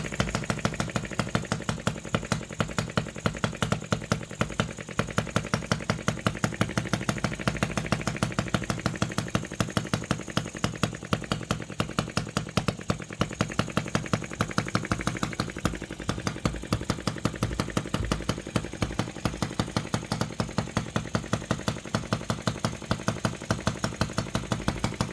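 OKMO 1110 miniature working replica of a 1950s Japanese engine running, a fairly quiet but rapid, regular firing patter that holds a steady rhythm for the whole stretch with no speech.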